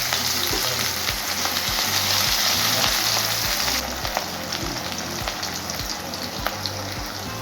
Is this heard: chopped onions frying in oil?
yes